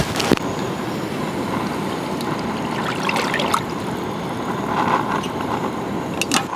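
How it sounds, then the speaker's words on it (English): Whole milk poured into a Dutch oven during one-pot camp cooking of a meatless mushroom lasagna, a steady, continuous liquid pour lasting several seconds with a faint clink near the start. "So now we're going to put in milk."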